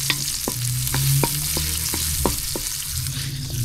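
Garlic sizzles steadily in a frying pan. A utensil stirs and scrapes it about twice a second, with sharp clicks close to the microphone.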